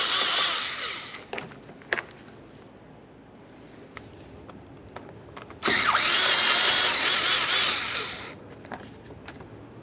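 A ratchet or power driver removes 7mm mounting bolts on a 2013-2020 Ford Fusion; bursts of loud broadband whirring open and close the stretch, with faint clicks and ticks between them.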